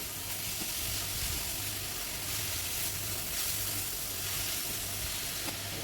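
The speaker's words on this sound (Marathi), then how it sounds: "आणि फास्ट गॅसवर परतूया आपण, बारीक स्लो गॅसवर नाही परतवायचं." Fried momos tossed in a pan over a high flame with black pepper and soy sauce, a steady, dense sizzle hissing loudly and continuously throughout, close up and without speech.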